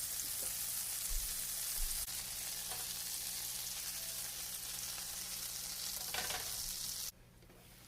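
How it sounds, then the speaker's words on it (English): Burger buns toast in sizzling butter in a pan, with a continuous close frying hiss and occasional scraping. The sizzle cuts to a much quieter level near the end, and no one speaks. "I'm going to drop in some butter and just swirl it around, and then I'll place the buns in here and let them toast"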